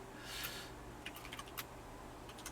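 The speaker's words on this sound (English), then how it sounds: "Are you typing?" Someone types on a computer keyboard, a few scattered soft clicks and short bursts of keystrokes over a low steady hum, fairly faint and close.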